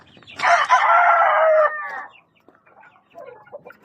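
A Pure Gilmore gamefowl rooster crows once, loud and close, in a long drawn-out call that trails off, followed by a few quieter clucks.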